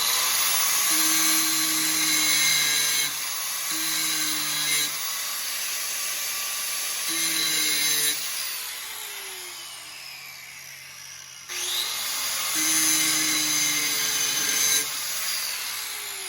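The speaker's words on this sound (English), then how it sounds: "I'm just going to grind this off to get to the open space" A bench grinder grinds the tip off a drill bit while a hollowing tool is being made, in several steady bursts of whining, rasping grit separated by brief pauses as the motor hum carries on.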